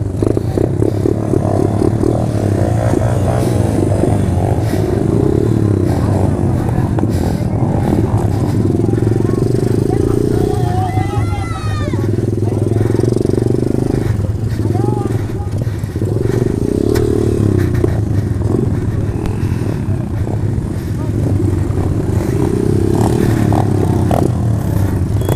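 A minimoto engine with a flooded carburetor runs at a dirt-track race, loud and close throughout, with a steady low drone that swells into uneven revs and sputters, plus some clatter and scraping.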